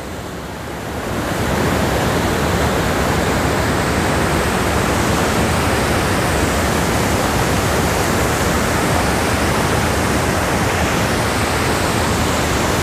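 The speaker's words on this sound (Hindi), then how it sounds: "मैं ये ऊपर सा जो वाटरफॉल मैं आपको दिखा रहा हूँ" Saidhara waterfall at Jharigaon near Umerkote in Odisha, a picnic spot ringed by hills, roars as a loud, broad, unbroken rush of falling water that swells in within the first second and then holds steady.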